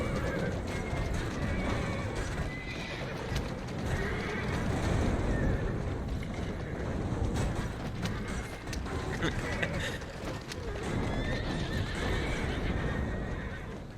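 Horse-drawn carriages galloping in the video game Dragon Age Inquisition: continuous clip-clop of hooves with repeated horse whinnies and creaking wheels, loud and busy throughout, with a voice talking over it.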